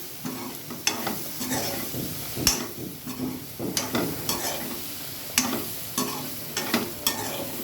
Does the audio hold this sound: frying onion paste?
yes